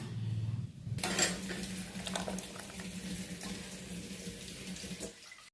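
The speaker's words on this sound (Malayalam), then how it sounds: "മിക്സിയുടെ ജാറ് കഴുകിയിട്ടുള്ള വെള്ളം കൊണ്ട് ഒഴിച്ച്" Water used to rinse a mixer jar pours steadily into a bowl of jackfruit dosa batter for several seconds after a brief low hum, a continuous splashing trickle up close.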